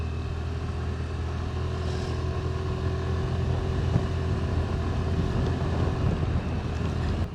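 A Suzuki Burgman 125 scooter carrying two riders runs on a rough road, its engine a steady low drone beneath continuous wind rush, with no talking.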